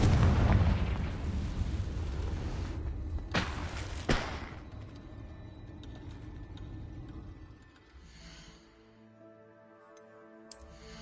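A Confringo blasting spell goes off in a video game: a loud, booming blast up front that rumbles away, two sharp cracks a few seconds later, then quieter tonal game effects as it fades.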